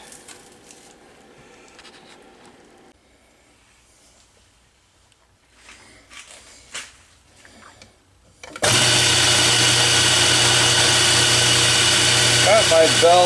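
An Atlas lathe cutting metal, with the drive belt freshly tightened, starts after some quiet shop handling noises and then runs as a loud, steady, close whirring hum.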